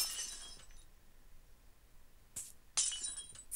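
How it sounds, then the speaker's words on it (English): A wristwatch is smashed against a floor as a sound effect in the visual novel Chrono Clock: a sharp glassy shattering crash opens, then two more bright breaking crashes follow close together near the end, with no voices. "I took my watch and smashed it against the floor"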